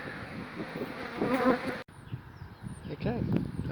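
Honeybees buzz close by as a hive is moved from a Telstra pit into a hive box, a dense, wavering drone with single insects zipping past and one brief dropout midway.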